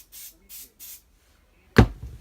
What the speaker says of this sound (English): so we just spray it.